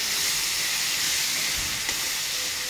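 Onions frying in a pan over high heat, a loud, steady sizzling hiss that continues unbroken, close by and with no talking.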